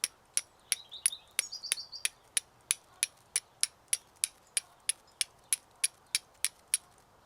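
A flint is struck and scraped down against a steel striker in a quick, even rhythm of about twenty sharp metallic ticks, with a few brief ringing chirps near the start, heard close and alone.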